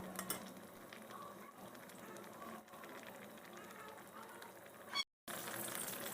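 Rohu fish kalia curry simmers in a pan, a steady close hiss of bubbling and light sizzling that runs unbroken, with a brief pause near the end.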